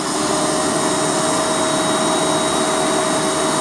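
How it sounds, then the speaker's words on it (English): A Premier canister vacuum with a PowrNozzle power head runs loud and close with a constant roaring whine and steady tonal hum. The sound stays even throughout, with no talking over it. "You can actually hear a little bit the suction change."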